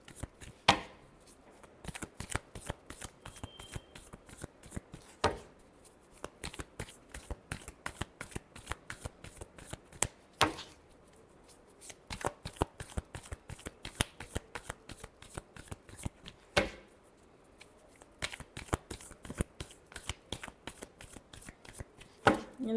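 Tarot cards are shuffled again and again in crisp, rhythmic riffling bursts, each flurry separated by short pauses, close and clear with no voices.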